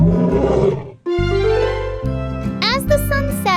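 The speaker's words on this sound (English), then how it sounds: "It's a lion, the king of beasts." A lion's roar in a children's animal quiz, a loud, close, drawn-out growling bellow that is followed by bright, tonal jingling sounds.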